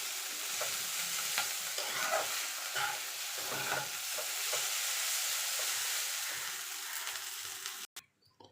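Egg chow mein with ground black pepper is stirred and tossed in a hot pan, with a continuous soft sizzle and scraping strokes of the spatula close up, ending in a sharp knock.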